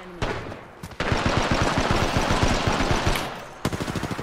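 Loud automatic gunfire in Apex Legends, a dense rattling burst of rapid shots lasting several seconds, then a short pause and another quick volley, with no talk over it.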